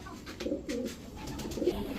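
Pakistani teddy, racer and high-flyer Giribaz pigeons coo in soft, repeated low throaty calls close by. Three or four coos come in quick succession with no talking.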